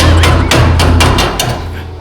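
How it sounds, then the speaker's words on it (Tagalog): A hammer strikes repeatedly in quick, sharp blows during house repair work. The close, loud impacts land roughly every quarter to half second over a steady low hum. "Martilyo."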